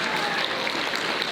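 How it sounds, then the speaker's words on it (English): A short burst of dense crowd clapping at a Lolita and J-fashion show held at A-Kon, steady and fairly loud throughout the brief moment. "So we'll give you a quick little round of applause as a thank you for your support."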